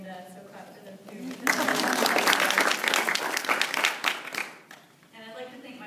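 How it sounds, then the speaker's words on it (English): After a speaker's closing remark, an audience at a presentation breaks into a burst of clapping that runs for about three seconds before dying away, with the speaker's voice heard before and after the applause. "so clap for them too"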